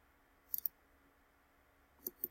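Computer mouse clicks while searching for food images: a quick pair of faint clicks, a pause, then three more light clicks close by in a quiet room.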